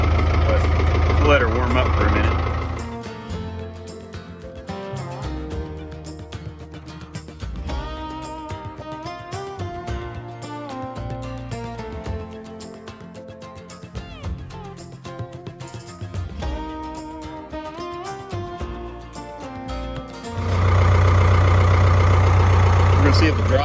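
A Ford 555 backhoe engine idles while warming up during repairs, a steady low rumble heard loudly at the start and end, with music-like tonal content and activity in between.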